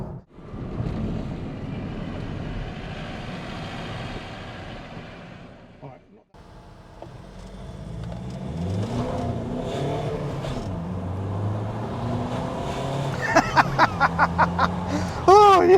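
A V8 engine in a Ford Transit van roars and revs up as it accelerates, with a voice talking over it and a brief dip before the surge builds.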